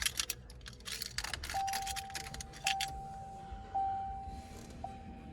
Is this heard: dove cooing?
no